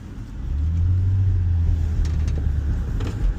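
A Robocop-style police car drives along with its loose plexiglass partition rattling, a loud low engine drone that swells in as the car pulls away, with faint ticking rattles over the rumble and no voices.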